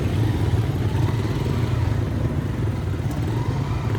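A motorcycle engine rumbles steadily while riding off-road over sharp stones, a continuous near, low drone with rattling clatter running throughout.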